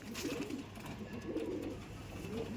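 Baby Madrasi pigeons cooing softly indoors, with low repeated coos in an even rhythm over a steady background hum.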